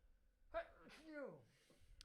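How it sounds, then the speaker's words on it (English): A single sharp sneeze bursts out close by, with a brief breathy lead-in and a trailing exhale. "Oh, I'm going to sneeze."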